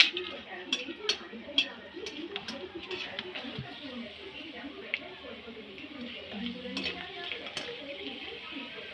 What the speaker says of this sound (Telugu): వాటిని మనము తీసుకొని మంచిగా ఆయిల్ వేడి చేసి ఇలా ఫ్రై చేయాలండి